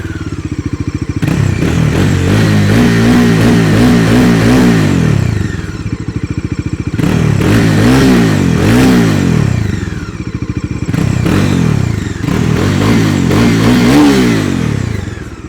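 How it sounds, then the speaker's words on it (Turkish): A Bajaj Dominar 400 motorcycle's single-cylinder engine with twin exhaust outlets revs hard in three bursts, roaring up and dropping back to a rumbling idle between them, close and loud. "Bir egzozun sesini dinleteyim de şöyle bir ortalık şenlensin yani."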